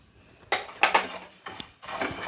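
A bowl of fennel seeds tipped into a hot pan for dry roasting, producing a few bursts of rattling, rustling scatter and light metallic scraping, close and fairly quiet.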